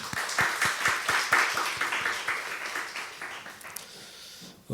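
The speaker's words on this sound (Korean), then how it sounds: "우리 하나님께 다시 한번 영광의 박수." A church congregation claps in praise after a worship song, a dense rhythmic patter of many hands that builds, holds steady, then thins out and fades near the end.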